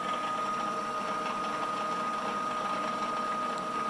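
A PM-728V-T milling machine spindle spinning steadily at 4375 RPM, giving a constant, fairly quiet mechanical whine with a steady tonal hum and faint resonant buzz, heard alone without talk.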